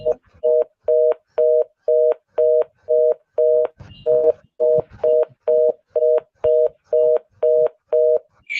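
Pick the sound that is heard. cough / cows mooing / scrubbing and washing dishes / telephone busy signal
telephone busy signal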